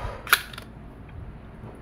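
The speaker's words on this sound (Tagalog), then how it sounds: "Lagyan natin CO2." A single sharp mechanical click while a CO2 cartridge is loaded into a Wingun 708 airsoft revolver, close and brief, followed by quiet handling noise.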